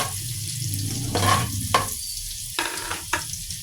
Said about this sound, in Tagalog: Dito na rin tayo magigisa. Lagay na natin tong bawang.